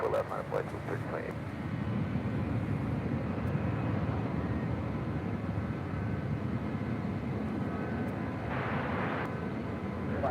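An airliner taking off from runway 24 left at LAX, a steady, continuous jet roar of even loudness throughout, with faint voices underneath.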